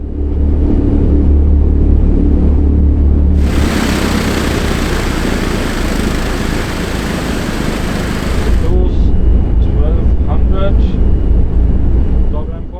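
Four piston engines of a Douglas DC-6 airliner run up to 1600 RPM during a ground run for an annual inspection, a loud, steady, roaring drone that swells into a broader blast partway through and then settles back.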